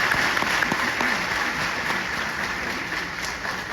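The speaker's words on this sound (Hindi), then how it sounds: "ताली तो बजा दी आपने" Audience applause at a talk, a loud continuous sheet of many hands clapping that holds steady throughout with no voices over it.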